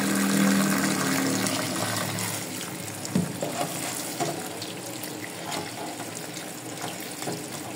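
Tap water runs steadily into a sink as food is washed under it for a home-style Antique (Filipino) dish, a continuous close splashing stream that gradually settles, with no talking.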